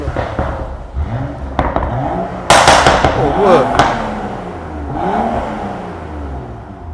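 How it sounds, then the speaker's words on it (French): A BMW M135i engine revs up hard with sharp popping crackles from the exhaust, and a voice briefly speaks partway through. "tu vas entendre le bruit du moteur"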